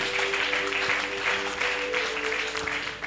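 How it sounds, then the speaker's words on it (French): A church congregation applauds throughout, a dense, steady wash of many hands clapping at moderate distance with faint voices mixed in. "Nous nous asseyons en acclamant le Seigneur Jésus-Christ."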